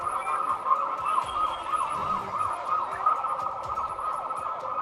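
A police siren wails steadily at moderate distance, its rising and falling tone sustained over faint street noise, with no voices.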